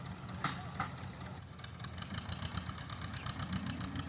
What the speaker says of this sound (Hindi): देखिए अब खुद ही ट्रैक्टर को आगे बढ़ा रहे हैं देखिए